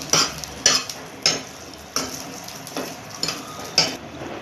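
Cashews and raisins being stirred and roasted in ghee in a pan, with a soft sizzle under sharp, evenly spaced scraping strokes of a spoon, about seven of them close up.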